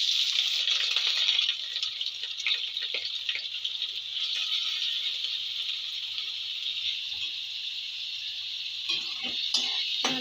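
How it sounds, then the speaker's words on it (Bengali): Chopped onion fries in hot oil in a home kitchen pan, giving a steady bright sizzle close by with light stirring clicks near the end. "এইবার পেঁয়াজ কুচি করা পেঁয়াজটা দিয়ে দেবো।"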